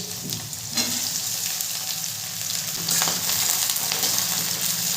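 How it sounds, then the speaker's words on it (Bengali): Small cauliflower pieces frying in a pan for navaratna dal, a strong hiss of hot oil that swells louder midway, punctuated by a couple of clattering stirs, heard up close without talk. "ভালো করে ভেজে নেব"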